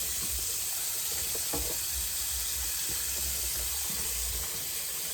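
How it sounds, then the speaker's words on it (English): Water runs from a faucet while a purse is rinsed, a steady hiss of spray with faint low splashes and clunks underneath, moderately quiet and without talk. "All right, so now I'm just gonna rinse it."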